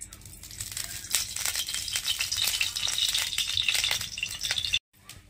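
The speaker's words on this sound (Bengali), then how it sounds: "এবারে কড়াতে সরষার তেল দিয়ে দেবো। সরষার তেল দিয়ে দিচ্ছি।" Hot mustard oil crackles and sizzles in a kadai, a bright, busy frying hiss that runs steadily for several seconds before cutting off abruptly.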